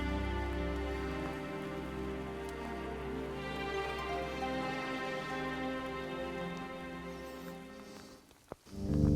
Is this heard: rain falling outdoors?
yes